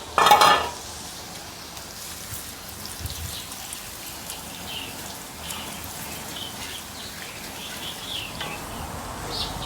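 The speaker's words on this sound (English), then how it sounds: "we're going to add in our brown sugar to start caramelization" Brown sugar sizzles and crackles steadily in a hot pan for Tobago-style curry crab, a soft continuous frying hiss with a brief louder burst at the start.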